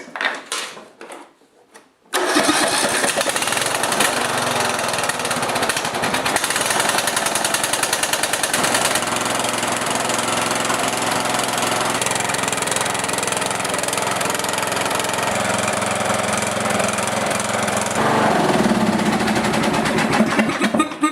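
A Briggs & Stratton OHV engine on a lawn tractor cranks briefly, catches right away and settles into a steady, loud, continuous run that lasts throughout, close to the listener with no talking.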